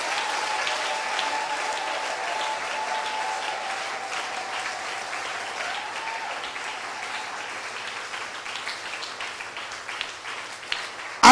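A church congregation at a live communion service applauds in a sustained, even wash of clapping that holds steady for the whole stretch, with a faint sung or spoken tone underneath early on.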